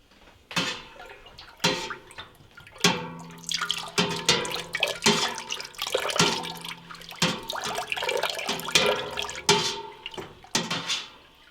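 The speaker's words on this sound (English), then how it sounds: "So you want to add the rennet and stir like that for 30 seconds." Rennet is stirred into milk in a pot for cheese-making. There are close, irregular liquid sloshes and drippy splashes in a loose rhythm, moderately loud, with no voices.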